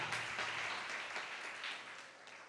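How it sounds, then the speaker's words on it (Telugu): A church congregation clapping hands in praise: a sustained wash of many hands applauding together, moderately loud and steady for a couple of seconds before easing slightly. "చప్పట్లు కొట్టి స్తోత్రం చెప్పాల."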